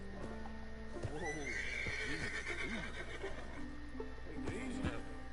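In a Wild West video game, a horse whinnies loudly and snorts while its hooves clip-clop at a walk, close by, over a soft steady background hum.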